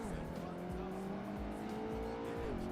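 Car in Project Gotham Racing 2 brakes and skids out of control, its engine tone sliding under a sustained tire squeal, with people talking over the game audio.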